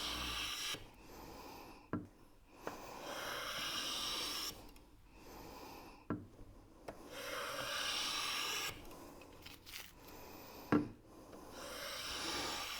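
A hand plane fitted with a cambered blade takes long shaving strokes along a wooden board edge. Several broad rasping passes are separated by short pauses and a few sharp knocks. It is close and fairly quiet, with no talk.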